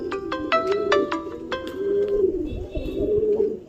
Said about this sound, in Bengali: পায়রা নামা পর্যন্ত আপনাদেরকে দেখালাম পুরো পায়রাগুলোকে